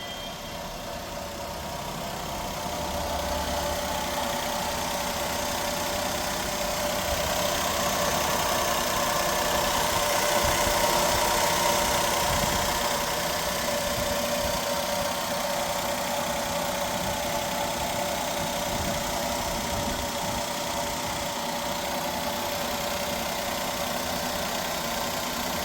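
A 2010 Maruti Suzuki Zen Estilo petrol engine idles steadily for a long stretch, a continuous even hum with a faint rattle, close by and with no talking.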